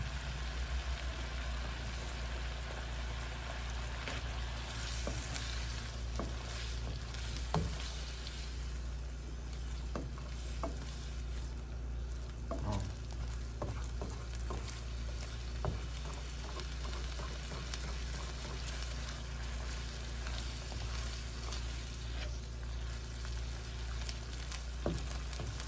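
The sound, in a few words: garlic and shrimp frying in a pan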